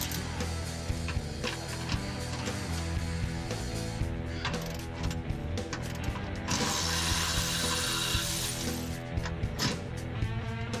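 A ratchet wrench clicks in quick bursts while loosening transmission bolts on a 2005 Mustang GT, with metallic clanks and tool handling between the turns.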